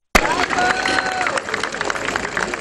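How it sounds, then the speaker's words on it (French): A crowd at a community evening event bursts into applause for a performer, with cheering and murmuring voices mixed into the sustained clapping. "Est-ce qu'on peut applaudir pour Jacques Chimankinda?"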